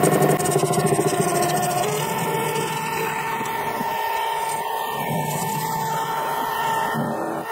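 A metal lathe faces off a cast part for a steampunk Stirling engine, a steady loud machine hum with layered tonal whine and motor drone running continuously without a break.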